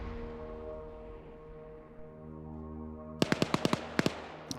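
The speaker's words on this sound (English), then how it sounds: "You heard explosions? It might have been the mortar." Mortar explosions in an online military shooter game land as a quick burst of sharp, close cracks over a steady droning engine hum, with no one speaking.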